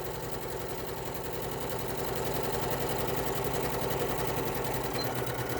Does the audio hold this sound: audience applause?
no